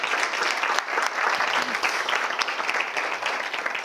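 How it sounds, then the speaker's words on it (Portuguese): Dense audience applause at a business growth club presentation, a steady wash of many hands clapping together at an even level from start to finish. "uma salva de palmas para vocês que já inspiraram muita gente esta manhã"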